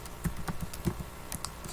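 A computer keyboard is typed on while entering a query in MS Access, giving a few quiet, irregular key clicks spaced over under two seconds.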